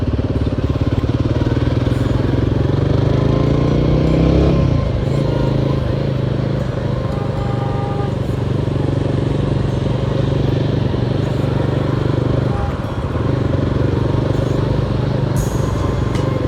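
A Royal Enfield Guerrilla 450 motorcycle engine hums steadily while riding through narrow Bangalore streets, a close continuous throb with brief shifts in pitch, and a rider's voice is heard over it at times.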